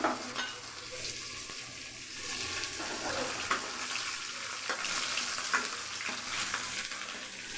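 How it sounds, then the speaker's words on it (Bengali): Dried red chillies dropped into hot oil for tempering, a continuous crackling sizzle with sharper pops and spatters throughout, close and fairly loud, no talking. "আর এখন আমি ফোড়নে লঙ্কা দিচ্ছি"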